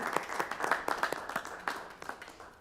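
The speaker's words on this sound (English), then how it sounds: "I think we should give them a round of applause." Applause at a city council meeting: a small group claps for a few seconds, scattered individual claps rising and then tapering off, fairly close and moderately loud with no talking.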